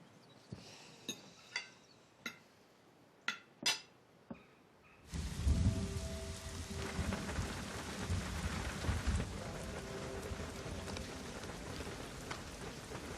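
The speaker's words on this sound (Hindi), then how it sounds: "उफ, बाहर बारिश तो देखो।" Heavy rain pours outside as a steady loud hiss after a few sharp drips and knocks, with low thunder rumbling underneath and no voices.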